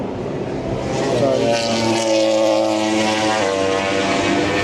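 MotoGP motorcycles approach on a circuit for a practice start, a loud sustained engine roar with rising and falling harmonic whines as several bikes come round and pass, building and filling the air.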